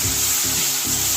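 Garlic frying in hot oil for chana masala, a brief, steady, close hiss of sizzling without speech.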